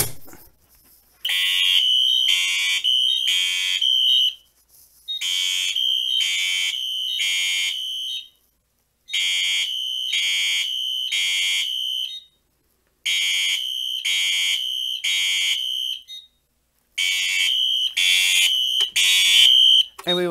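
A Faraday fire alarm horn sounds after its pull station is activated, blaring in five long, loud pulsing bursts separated by short silences, close up and alone.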